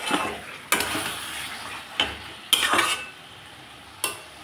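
Spices frying with pointed gourd and potatoes in a pan, stirred in bursts of scraping and sizzling with a few utensil knocks against the pan, close and fairly loud between quieter pauses, no talking.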